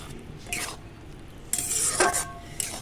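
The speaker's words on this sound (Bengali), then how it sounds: "হালকা হাতে নেড়ে দিতে হবে" Intermittent scraping and clinking of a spoon against a metal wok while stirring semolina into a stiff dough, a few bursts of stirring with quiet gaps between them.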